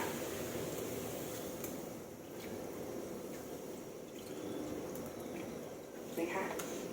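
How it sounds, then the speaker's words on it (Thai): Water simmering in a pan for a canned fish curry with spring onion and dill, a steady close bubbling hiss with faint popping that runs through without a break. "น้ำเริ่มเดือดค่ะ"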